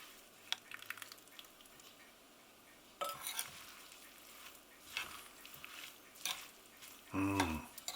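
A spoon stirs vegan soya mince pie filling with red wine or vegetable stock in a pan, giving quiet scrapes and a soft simmering sizzle. A few sharper knocks come against the pan, with a heavier clatter at the end.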